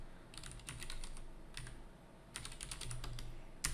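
Steady, close typing on a computer keyboard, rapid key clicks in short bursts with brief pauses, against a faint background hum.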